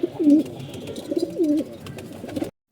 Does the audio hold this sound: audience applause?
no